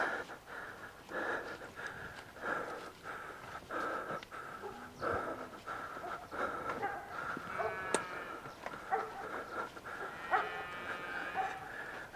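A cow and a dog on a highland farm at about 3000 metres, with low mooing and snorting, occasional animal calls and rustling in the background, moderately distant and fairly faint, no talk.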